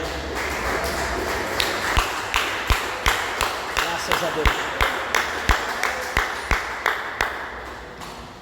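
Church congregation clapping joyfully for Jesus in a steady, rhythmic unison beat, sharp claps evenly spaced over a murmur of voices, with a brief spoken phrase.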